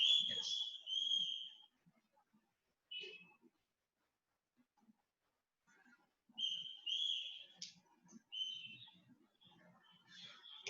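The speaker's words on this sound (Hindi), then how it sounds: "मेरा बेटा सीटी बजा रहा है" A child blows a whistle in short, shrill bursts separated by long quiet gaps, fairly close but not loud, with faint murmuring in between.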